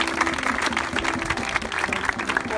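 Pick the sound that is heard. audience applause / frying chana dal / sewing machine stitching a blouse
audience applause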